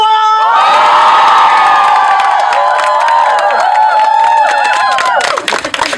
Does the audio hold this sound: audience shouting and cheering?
yes